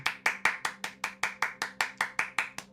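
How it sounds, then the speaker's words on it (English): About a dozen sharp hand claps in a quick, even rhythm, close by, like a single person clapping alone. "Round of applause."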